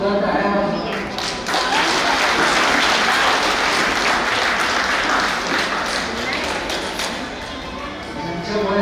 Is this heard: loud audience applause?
yes